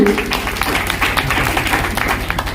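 Seminar audience of achievers in Manjhanpur, Kaushambi giving a loud round of clapping, dense continuous claps with some voices underneath.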